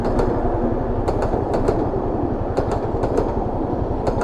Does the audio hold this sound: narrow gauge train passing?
yes